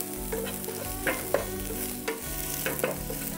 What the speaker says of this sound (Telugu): ఇక్కడ ఉల్లిపాయ బాగా వేగింది.